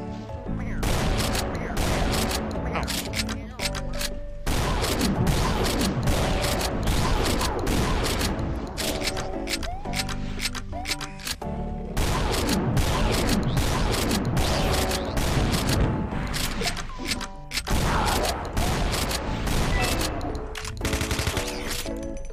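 Rapid, continuous volleys of shotgun and pistol fire from the Doom mod Golden Souls 2, loud and dense throughout with barely any pause between shots and a few heavier booming blasts.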